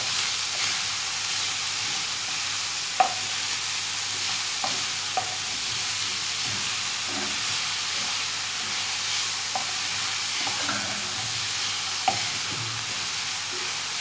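Onions sautéing in a pan as the base for mini quiche, a steady low sizzle and hiss running throughout with a few faint clinks and stirring knocks of a utensil against the pan, close and without speech.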